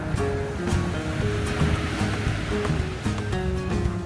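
Sea waves wash onto a beach in Nha Trang, Vietnam, a continuous surging rush of surf with wind buffeting the microphone, loud and close throughout.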